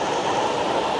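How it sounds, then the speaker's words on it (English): A Halloween-themed model train runs on a club layout at a New York State model train fair. It makes a steady, close mechanical rumble and whir without pause, and no one speaks over it. "You got a little Halloween train going on there."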